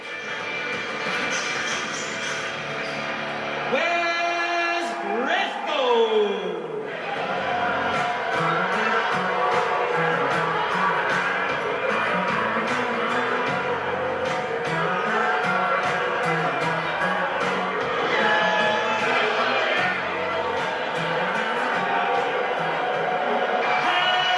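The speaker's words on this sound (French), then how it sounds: "Le Colosse fait le plein d'applaudissements avant son combat" An arena crowd applauds and cheers steadily for the professional wrestler Le Colosse, Devon Hannibal Nicholson, before his match. A brief rising and falling whistle-like tone cuts through early on, and the roar holds loud and dense throughout.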